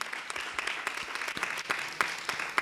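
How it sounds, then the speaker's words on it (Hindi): Congregation clapping during a Hindi Sunday sermon by Rev. Ramesh Nag, a scattered, uneven patter of hand claps from a modest crowd, fairly faint and continuous for a few seconds with no talk over it. "कोई ताली नहीं बजा रहा है?"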